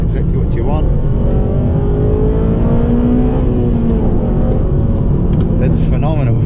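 A 2009 Honda Civic Type R FN2 accelerates hard, its engine rising in pitch through a rev climb and then settling, loud and continuous inside the cabin, with a person talking over it.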